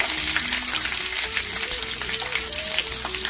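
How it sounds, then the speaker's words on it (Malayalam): Ginger, garlic and green chili sautéing in a pan give a steady, close sizzle with light stirring scrapes, alone and without a break, under a faint background melodic tone. "പച്ചമുളക്, നന്നായിട്ടൊന്ന് വഴറ്റണം കേട്ടോ."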